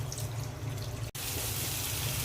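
Water is poured into a cooking pot of papaya and potatoes for a chicken curry, a steady low rushing stream close by, broken by one brief interruption midway before continuing, with no voices.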